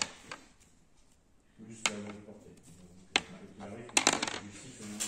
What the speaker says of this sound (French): Tu relances les 2 dés qui sont supérieurs à 3.